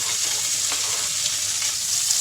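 Bacon sizzles and fries steadily in a very hot wok, a dense, continuous crackling hiss with faint stirring scrapes, close and fairly loud with no talk.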